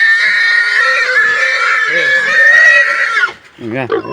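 A pig gives a loud, sustained high-pitched squeal while being lifted, then breaks into shorter wavering cries near the end, with voices around it.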